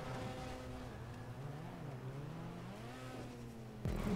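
A vehicle engine revs in a video game parkour map, a continuous droning motor whose pitch rises and falls in smooth sweeps, steady and mid-level, ending with a sudden louder burst.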